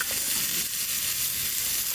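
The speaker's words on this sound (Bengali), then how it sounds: "আদা রসুনটা ভেজে নিলাম, এবার সবজিগুলো দেবো।" Vegetables hiss and sizzle steadily in a hot pan of oil after ginger and garlic have been fried, a constant close-up frying sound with no voices.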